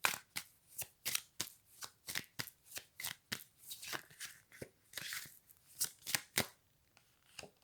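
Tarot cards are shuffled close by in a quick, rhythmic run of about twenty crisp riffling bursts, fading to quiet at the end.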